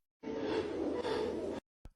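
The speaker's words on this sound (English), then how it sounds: "Did you hear that yell?" A man lets out a loud, sustained yell lasting over a second, then a short sharp burst follows after a brief pause.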